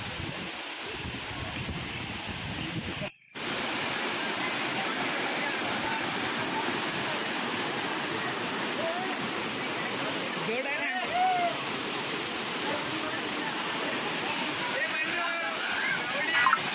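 Savdav waterfall near Kankavli roars steadily at close range, a dense continuous rush of falling water with a brief dropout early on, while voices are faintly heard beneath the torrent.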